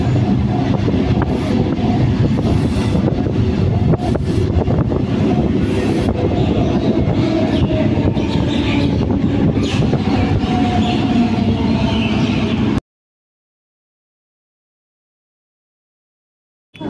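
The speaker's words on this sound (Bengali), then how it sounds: "আমাদের ট্রেন ঢুকে গেছে।" The Namkhana local train rumbles loudly through Sealdah station, its wheels clattering on the rails with a few sharp squeals. The heavy, continuous noise stops abruptly near the end.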